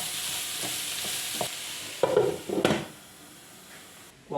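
A Chinese-Italian bun filling cooking in a covered pan over medium heat gives a constant soft sizzle, with a few light scrapes and a louder clatter of stirring partway through.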